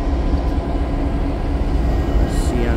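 CSX freight locomotives, with a BNSF unit among them, rumble in a rail yard on Goodman Street as a steady, heavy low drone close by, with faint hissing up high.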